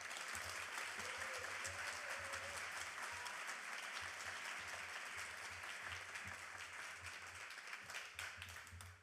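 A keynote audience applauding in a hall, dense sustained clapping from many hands filling the space at steady volume before fading out at the end.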